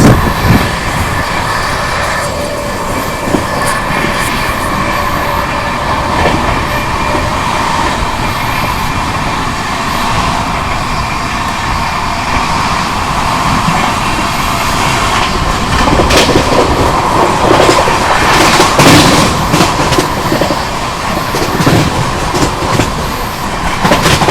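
Sampoorn Kranti Express overtaking the Ziyarat Express in India, with a continuous loud rumble of rolling stock, rhythmic clickety-clack over rail joints and brief wheel squeals, close and sustained throughout with no voices.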